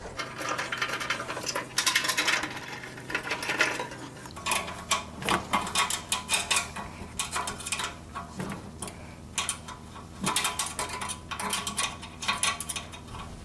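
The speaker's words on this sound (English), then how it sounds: "The handle is held in place with 6mm cap head screws that are easily slipped into place through the open end of the cabinet" A ball-end hex wrench drives 6mm cap head screws into the handle of a Gyro Air G700 dust processor, making light metallic clicks and clinks in irregular bursts, close and fairly quiet.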